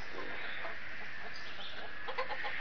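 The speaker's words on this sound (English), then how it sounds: "Look, the chicken coming back out" A chicken clucks close by near a backyard coop, a short steady run of soft clucks over a constant background hiss.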